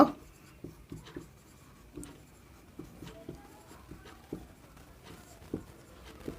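Chalk or marker writing on a board during a maths lesson on polynomials, a series of short tapping strokes and scratches at an irregular rhythm, fairly quiet and close with no talk over it.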